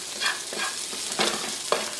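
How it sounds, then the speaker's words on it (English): Onions sweat in a pan, a close, continuous sizzle with a few soft scraping stirs spaced through it and one brief sharp tap near the end. "So my onions have been sweating down for about 2 minutes or so"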